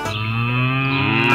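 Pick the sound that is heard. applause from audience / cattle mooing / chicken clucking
cattle mooing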